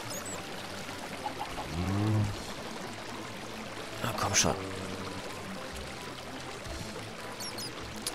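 Steady rushing and pouring of a waterfall in the Minecraft video game, a continuous wash of water noise under people talking.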